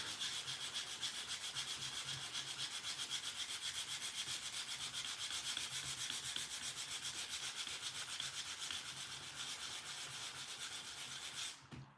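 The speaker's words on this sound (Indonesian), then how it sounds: "Terpaksa harus amplas di dalam ruangan karena live." Steady, continuous scratchy rubbing of sandpaper on a wooden glider part, done by hand indoors, a dry hiss that keeps going without pause for the whole stretch.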